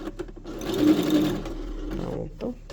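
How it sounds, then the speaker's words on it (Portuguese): A sewing machine runs a zigzag stitch on a pet dress, a steady whirring motor burst lasting about two seconds, close and fairly quiet, with brief soft handling noises before and after. "No caso, eu vou colocar aqui o zigue-zague, que vai ficar bem mais bonitinho"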